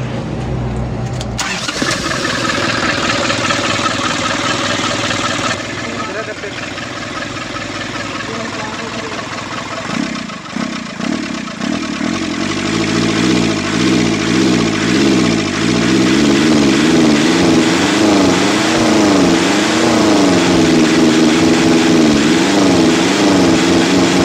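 Nissan Urvan diesel converted to a manual injection pump cranks, catches and settles into a loud, steady idle with a wavering, lumpy rhythm, close up and with no talk.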